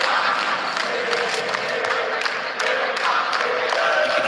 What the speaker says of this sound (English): You can hear the crowd starting to make some noise.